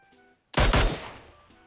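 One loud, close burst of PUBG Mobile gunfire, a few rapid cracks that fade into a decaying echo, set against faint game tones.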